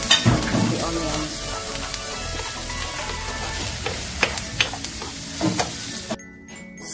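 Onions sizzle in a hot pan for tacos or fajitas, a dense crackling hiss with sharp clicks of a utensil stirring, close and steady before dropping away abruptly near the end.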